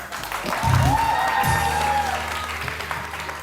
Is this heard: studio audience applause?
yes